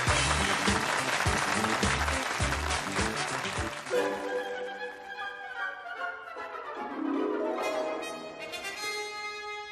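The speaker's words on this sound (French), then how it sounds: "Alors, bravo, je crois vraiment qu'on peut s'applaudir." Audience applause: dense, loud clapping for about four seconds that fades as music takes over for the rest of the stretch.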